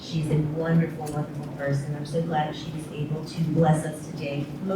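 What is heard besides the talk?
No everyday noise stands out behind the speech.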